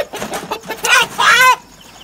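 A chicken squawks and clucks loudly up close in short agitated bursts, rising to a longer harsh cry, as it is grabbed in a rural backyard, then goes quiet.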